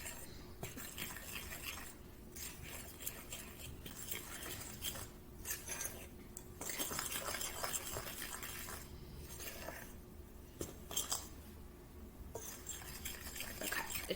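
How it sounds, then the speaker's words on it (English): A fork stirs and scrapes scone dough in a bowl, producing intermittent scratchy clinks and scraping strokes at close range in a quiet kitchen, with no talking. "Now I'm gonna take a fork and mix that together."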